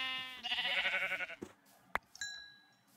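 Minecraft sheep bleats in a single harmonic, wavering call near the start, followed by a brief thump and a couple of short game chimes, with no talk over it.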